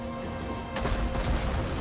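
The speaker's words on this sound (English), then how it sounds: "Let's use explosive rounds. We want bright, fiery explosions." A deep boom of explosive artillery rounds in Total War: Rome 2 bursts out suddenly, followed by rumbling, crackling blasts that roll on over a steady low background hum.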